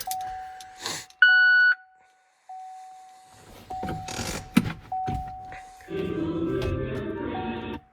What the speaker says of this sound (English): I better shut my door, that thing will keep beeping.